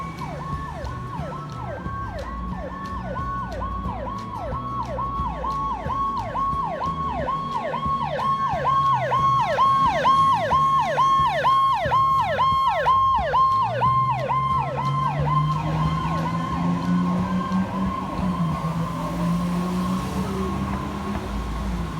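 An ambulance or fire engine siren wails loud and continuously on a North Jersey road, its fast rising-and-falling yelp cycling steadily over a low traffic rumble.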